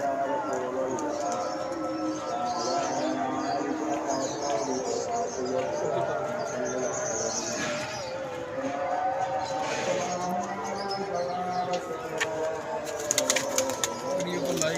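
Paired breeding pigeons coo softly at close range in a loft, with soft fluttering and scuffling, while someone talks over them throughout.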